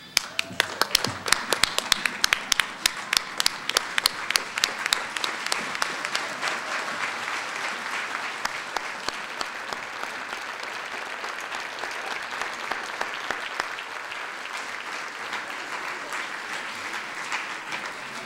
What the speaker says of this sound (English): stand and applaud our graduates